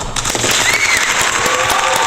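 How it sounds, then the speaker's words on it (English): Applause for a debater named Brian at an online English-lesson debate on cryptocurrency, a loud, dense, continuous wash of clapping with no talk over it. "big applause to Brian"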